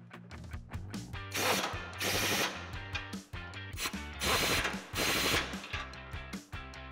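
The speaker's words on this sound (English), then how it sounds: "Now with a 19 millimeter wrench and socket, tighten down the bolts at the bottom of your bump" A ratchet wrench with a 19 mm socket tightens the bolts along the bottom of a Barricade HD off-road front bumper on a 2007-2013 Chevrolet Silverado 1500. The clicking comes in close, loud bursts of rapid clicks with short pauses between strokes.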